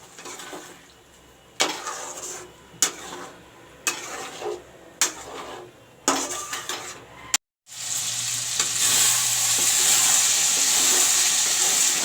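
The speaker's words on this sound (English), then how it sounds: "the masala is turned brown and is being mixed well" Browned masala being stirred and fried in a pan for a chicken curry, a spoon scraping in several distinct bursts before a continuous loud sizzle takes over, close up with no talking.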